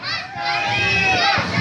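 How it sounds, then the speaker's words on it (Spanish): Crowd at a lucha libre wrestling show cheering for wrestler Mascarita Sagrada, a loud burst of mostly high, children's voices shouting together, close and continuous. "A ver que se escuche ese grito para mascarita."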